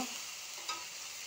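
Paste of onion and yogurt, ground with green chilli, fries steadily in oil in a pan, giving a continuous close sizzle with faint stirring and no voices.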